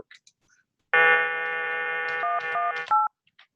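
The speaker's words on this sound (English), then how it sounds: "I'm going to dial a number on NPSTN, and that should traverse the NPSTN StepNet network" A telephone dials a number over the NPSTN step-by-step switching network. After a brief silence a loud, steady multi-tone signal plays for about two seconds, then shifts through a few short pitch changes before cutting off.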